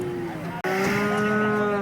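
A bull moos at the Peth Vadgaon cattle market. The low, loud call is close and sustained, split by a brief pause.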